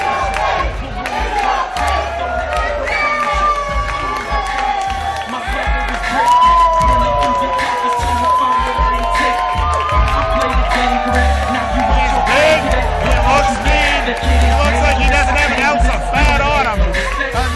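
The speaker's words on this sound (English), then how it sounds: "you hear the hometown crowd getting behind the man who will make his IWC debut right now" A hometown wrestling crowd at an independent IWC show roars and cheers steadily for a debuting wrestler's entrance, with whoops and shouts over loud, continuous crowd noise for the whole stretch.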